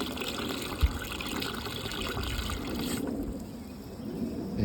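Water trickles and gushes into a BirBlue automatic chicken waterer as it fills, a continuous close splashing flow with a small knock near the start, easing off slightly before resuming.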